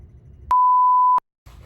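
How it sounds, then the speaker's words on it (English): A single clear electronic beep from a portable charger, steady and pitched, lasting under a second over quiet background noise. "there was like a little beeping sound, last two clips, that's just my portable charger"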